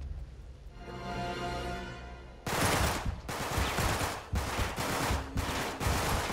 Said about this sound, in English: Try to do some blind hip fire shooting here